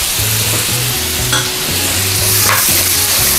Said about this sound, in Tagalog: siyempre maglalagay tayo ng garlic